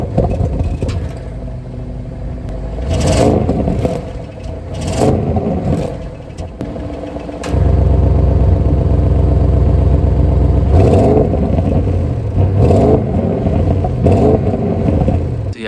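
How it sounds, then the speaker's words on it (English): 2021 Audi RS6 Avant exhaust revving in a series of loud, close blips, then holding a sustained heavy drone for several seconds before more sharp revs; no talking. "So here is what the exhaust sounds like"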